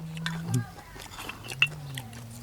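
Crispy shellfish being bitten and chewed in a Thai eating session, a few close crunchy bites and chews over about two seconds, with someone talking softly over them.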